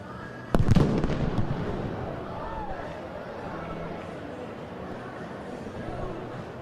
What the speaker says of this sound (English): the cannon went off a little late